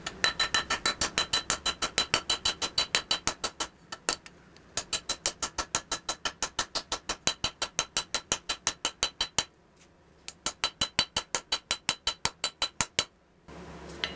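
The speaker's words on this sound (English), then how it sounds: "as I'm hitting that, it's making this section wider" A steel cleaver blade is hammer forged by hand at the ricasso, thinning the thick area to form an integral bolster, with loud, evenly paced ringing hammer blows in long runs broken by two brief pauses.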